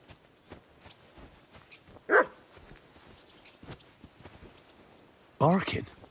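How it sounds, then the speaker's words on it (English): A dog barks twice, once in a short burst early and again in a louder burst near the end, each bark clear and fairly close against quiet room background with faint birds. "Barking."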